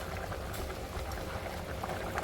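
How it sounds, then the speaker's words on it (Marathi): A low, steady bubbling and simmer of dried fish and Bombay duck curry with raw mango boiling in a covered pot, soft and continuous with no voices. "भाजीला छान अशी उकळी येऊन देते"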